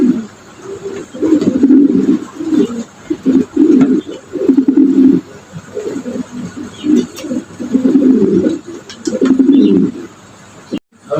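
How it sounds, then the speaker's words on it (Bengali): Andalusian pigeons at a pigeon market coo in repeated low, throaty bursts close by, several birds overlapping with faint chirps and no talk. "মাশাআল্লাহ, আজকের ভিডিওর তৃতীয় নম্বর কবুতর"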